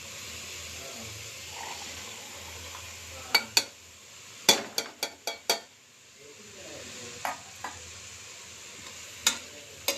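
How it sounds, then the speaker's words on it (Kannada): Beans and peas frying in a little oil and being stirred in a pan, a steady soft sizzle broken by several sharp clinks and scrapes of a spoon against the pan, close up with no talking. "ಸ್ವಲ್ಪ ಎಣ್ಣೆ ಸ್ವಲ್ಪ ಆಡಿಸಿದ್ರೆ ಟೇಸ್ಟ್ ಬರುತ್ತೆ ಅಂತ ಆಡಿಸ್ತೀನಿ"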